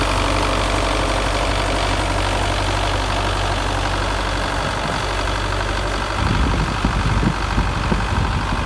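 A Belarus 510 tractor idles on a farm in Punjab, Pakistan, its diesel engine throbbing steadily at close range, with a rougher, louder knocking patch near the end and no talk.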